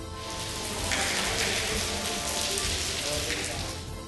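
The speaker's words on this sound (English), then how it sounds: "it's starting to rain" Rain begins falling at the Palatine Hill in Rome, by an artificial grotto, building into a steady, close hiss of drops on hard surfaces that swells and then eases slightly.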